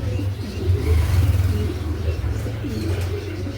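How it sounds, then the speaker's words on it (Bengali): Black-line Giribaz pigeons cooing in a loft, a steady low murmur of overlapping coos running throughout at moderate loudness, with faint background noise. "আমাদের কিছু গিরিবাজ কবুতর আছে ভালো ভালো ব্ল্যাক লাইনের।"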